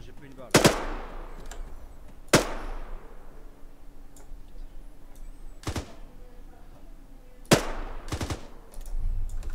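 Four separate loud rifle shots crack out at uneven intervals in the military video game Arma 3 while shooting at an enemy, with faint ambient noise and some soft game sounds between them.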